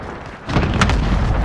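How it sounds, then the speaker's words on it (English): A dull, rolling boom from a cluster strike in Call of Duty: Modern Warfare rises after a short quiet lead-in and holds as a dense rumble of close explosions. "Allied cluster strike inbound. Enemies in the area."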